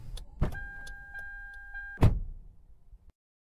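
A broken-down car in a video game: a door thuds, a steady electric tone hums, then a second heavy door slam ends it, close and fairly loud with no talking.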